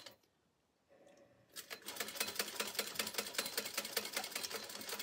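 A sewing machine runs a line of stitching along the short edges of fabric for a drawstring backpack, starting after a brief quiet lead-in with a soft click, then a fast, steady, close mechanical rattle.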